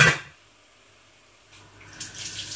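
A cheese grater is rinsed under a running kitchen tap. A sharp clatter opens, then a quiet pause before a soft, steady rush of water builds and continues to the end.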